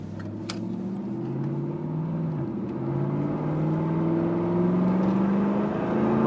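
A 1998 Pontiac Firebird Formula WS6 with an LS V8 pulls through its gears, the engine note rising in pitch, dropping at a shift, then climbing again as the drone grows louder toward the end.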